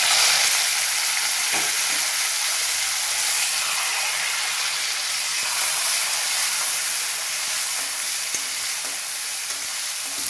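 Tomato and curry leaves frying in a pan, a steady close sizzle and hiss running throughout with a few faint clicks of stirring, no voices.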